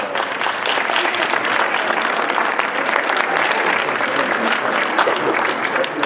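An audience at the Roulez Rose association's 2017 New Year greetings event claps steadily, a thick, even roar of many hands that holds at the same loudness throughout with no voices on top.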